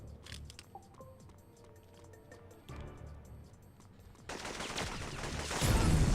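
M16 gunfire in a PlayStation Classic shooter: faint, scattered low-fi shots and clicks build into a louder, sustained burst of automatic fire toward the end.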